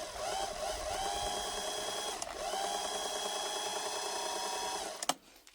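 A rare watchmaker's lathe with a slightly loose belt runs with a steady whirring, cyclic hum that swells and dips in a regular rhythm, close and quiet, ending with a sharp click as it stops.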